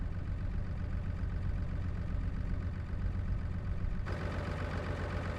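A tractor engine idles in Farming Simulator, a steady low rumble that runs unbroken and fairly loud throughout with no talk.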